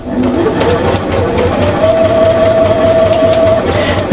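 A sewing machine runs steadily, stitching a double-sided Christmas cushion held with quilter's tape, a loud continuous mechanical whir with fast rhythmic needle pulses throughout.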